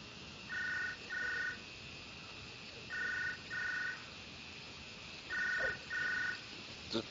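Phone ringing inside a video game: three pairs of double electronic rings repeating at even intervals, clear and moderately loud over a faint background hiss.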